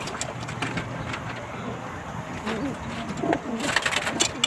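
Pigeons in a loft give soft, repeated low coos close by over a faint background hum, with a few brief rustles and flutters, and a little quiet talk now and then.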